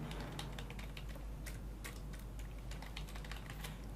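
Keys on a computer keyboard clatter in a quick, irregular run of close clicks over a steady low background hum.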